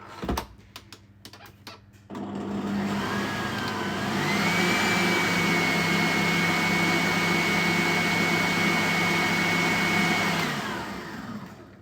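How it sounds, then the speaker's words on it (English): An electric whisk beats eggs and sugar: after a few clattering knocks, a steady motor hum with a high whine starts and runs loud and even for about nine seconds before cutting off. "Your eggs and your 2 sugars should look like that. I whisked it for a few more minutes."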